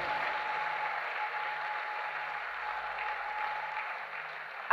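A church congregation clapping together, a steady wash of applause held at moderate distance for several seconds, with no voices over it.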